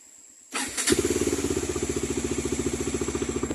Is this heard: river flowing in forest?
no